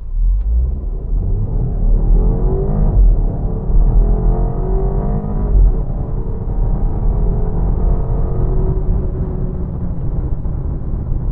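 A BMW 225i Active Tourer with a 2.0-litre engine accelerates hard from 0 to 100 km/h in traction mode, a steady loud engine drone rising in pitch through the gears, with no talking.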